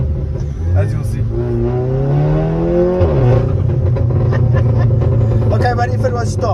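A Volkswagen Polo 6C fitted with a loud exhaust revs hard, the engine note climbing in pitch, dropping sharply, then holding a rough, droning rumble, all close and loud with no voices over it.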